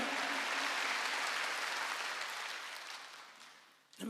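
Church congregation clapping together, a steady broad wash that slowly fades before a sharp sound at the very end.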